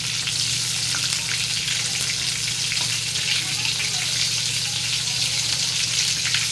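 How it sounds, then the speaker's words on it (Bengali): Pointed gourd (potol) frying in a pan of oil gives a continuous bright sizzle, loud and close, with a low steady hum underneath and occasional soft stirring sounds. "তো দেখো, পটলগুলো ভাজা হচ্ছে।"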